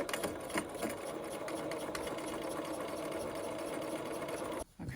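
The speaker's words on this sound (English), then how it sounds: "I'm just going to backstitch once just to make sure that holds that in place" A home sewing machine runs steadily as it backstitches along an understitched seam, joining the seam allowance to the facing of a New Look 6263 A-line dress; the motor whirs evenly and close, then stops abruptly just before the end.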